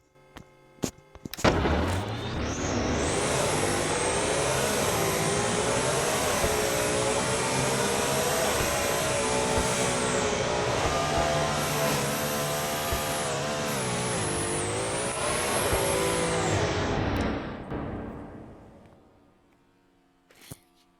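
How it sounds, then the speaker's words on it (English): A loud video game car engine in Car Dealership Tycoon revs up hard and holds a high, roaring whine for many seconds before dropping away, with a few sharp pops at the start. "I'll just spend my days sitting in tunnels and revving this, because it makes a really bloody nice noise"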